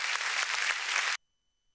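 Loud crowd applause at a cricket league welcome ceremony honouring a guest, a dense burst of clapping that cuts off abruptly after about a second.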